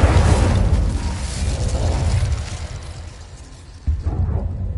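An Incendio fire spell goes off in Hogwarts Legacy with a loud rushing burst of flame that roars and slowly fades, then flares sharply again near the end, heard up close with no voices.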